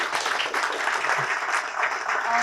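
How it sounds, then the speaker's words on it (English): An audience at a pet care market conference claps for the speakers, a full, even round of applause filling the room at steady volume from start to finish. "this definitely deserves a huge round of applause from all of you"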